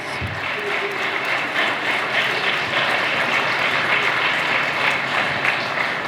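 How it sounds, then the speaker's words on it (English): A crowd applauds steadily throughout, a dense, even wash of clapping from many people at a school graduation and moving-up ceremony in the Philippines. "Let us give them a warm round of applause."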